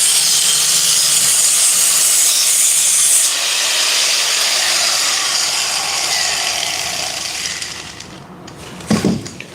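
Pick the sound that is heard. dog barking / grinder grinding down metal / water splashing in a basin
grinder grinding down metal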